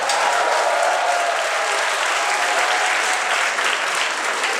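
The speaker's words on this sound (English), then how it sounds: "So I think you should all give a big round of applause to the Guaylos." Sustained, dense applause from a comedy club audience at a stand-up show, steady and loud throughout with no talk over it.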